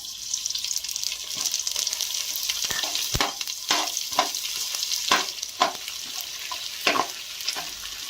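Kamarkas frying in hot ghee for Punjabi panjiri, a bright steady sizzle broken by repeated scraping stirs of a ladle, close and fairly loud with no talking.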